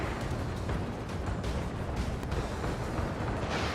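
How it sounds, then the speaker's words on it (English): Anti-aircraft guns on warships in World of Warships blaze away in a dense, continuous barrage of rumbling bursts and pops, loud and steady throughout with no voices. "AA guns blazing away."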